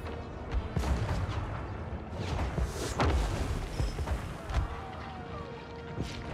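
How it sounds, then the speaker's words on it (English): Units firing at a Kugath in Total War Warhammer 3, a dense battle din of booming shots and cracks layered over a constant roar, with several louder impacts standing out. "You guys shooting a Kugath should also do a bit of damage"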